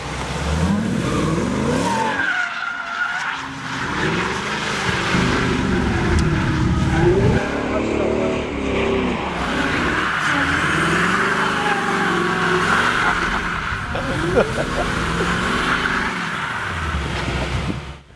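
A 2015 Ford Mustang GT with traction control not working accelerates hard, engine revving and tires squealing and skidding in long sustained stretches, loud and close with no talk.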